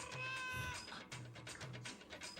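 Kittens mew repeatedly, small high cries in quick succession, close and fairly clear over a noisy background.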